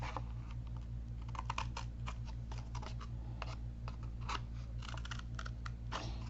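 Scissors cutting cardboard give a run of crisp, repeated snips and crunches at close range over a low steady hum, with no talking.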